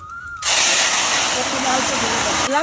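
Cumin seeds dropped into hot oil in a pan, an abrupt loud sizzling hiss bursting in after a brief quiet moment and holding steady for about two seconds before cutting off, close by.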